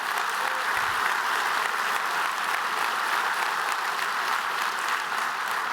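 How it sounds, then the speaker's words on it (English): Large audience at a port address gives sustained, even applause, a dense wash of clapping from a big crowd that holds steady from start to finish. "Let's give Georgia a round of applause."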